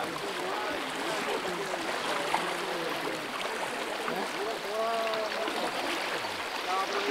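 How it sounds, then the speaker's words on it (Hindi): Floodwater rushes loudly and steadily through a village, a continuous broadband roar that masks everything, with voices talking over it. "पानी का तो शोर देख रहे हैं आप लोग"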